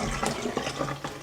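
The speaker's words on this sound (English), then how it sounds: "It means it needs rapid movement of cold water. So continually under the cold water," Cold tap water running over quinoa being rinsed and shaken in a strainer, a close, steady splashing flow with small irregular bursts.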